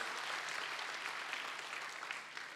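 A church congregation applauds during a sermon, with loud, steady, dense clapping that holds for the whole stretch and no voices.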